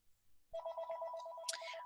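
A telephone starts ringing abruptly after a brief pause, a steady electronic trill that sounds fairly close and continues without any talking over it.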